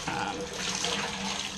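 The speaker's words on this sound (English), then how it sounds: "I'm actually gonna rinse that out" Lukewarm tap water runs steadily into a bathtub during rinsing, a continuous close splashing rush at moderate level.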